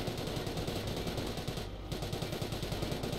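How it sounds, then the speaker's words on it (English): Artillery shelling in the strategy game Company of Heroes during a tank battle, heard as a dense, continuous barrage of rumbling blasts and crackling bursts with a brief lull midway, loud and without any talk. "whatever comes here is going to be shelled, and that is what is happening"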